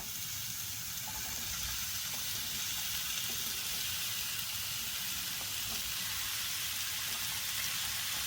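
Steady sizzling of diced apples sprinkled with sugar in a hot pan, a continuous crackling hiss with soft bubbling, unbroken throughout.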